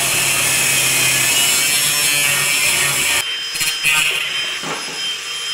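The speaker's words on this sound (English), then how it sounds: "put it up in the frame, drill the hole there, fit the mudguard" A power drill bores a hole in a Lambretta scooter frame, a loud continuous whirring grind that holds steady for about three seconds, then stops, leaving intermittent clanks and workshop noise.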